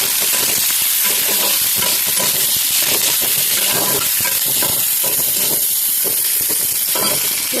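Onions fry in hot oil in an iron kadai, giving a loud, steady sizzle and hiss with faint stirring scrapes throughout and no voices.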